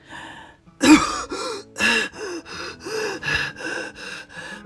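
A person gasps and struggles to breathe, giving about eight loud, close, strained breaths in a steady rhythm with brief pauses between them.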